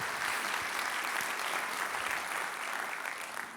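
Audience applause in a theater at a Long Beach civic event, a broad continuous wash of many hands clapping, steady and fairly distant, easing off slightly at the end.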